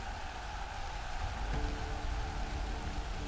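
Steady rain in a video game, a soft continuous hiss of falling drops at low volume, with a faint tonal hum beneath it and no talking.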